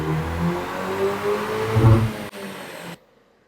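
A VW MK8 Golf R strapped to a dyno with a resonated exhaust rises through a loud, droning rev, peaking near two seconds, then drops abruptly and cuts to near silence.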